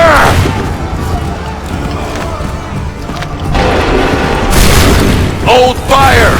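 A cannon volley booms in Assassin's Creed 3 amid battle noise, with loud deep blasts and rumbling, while voices shout commands over the din.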